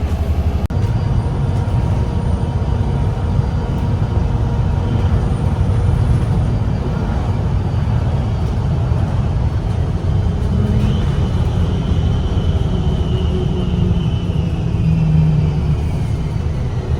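A diesel bus on London's Central Line route runs with a steady loud engine rumble throughout, with a faint hiss of brakes partway through; no talking.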